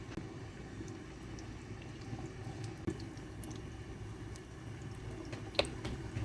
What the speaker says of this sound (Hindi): अभी इन टिक्कियों को हम फ्राई करते हैं।